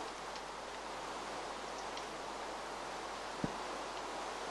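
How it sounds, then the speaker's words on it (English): Steady rain hisses in a Minecraft modpack world at night, a broad even wash of drops with one brief faint tap partway through, no talking. "Oh, there's rain."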